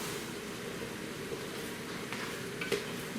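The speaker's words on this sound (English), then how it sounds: "We're just cooking those onions down, getting the carrots soft." Carrots, onions and garlic cooking in a pot give off a soft, steady sizzle with faint crackles throughout, close and fairly quiet, with no talking.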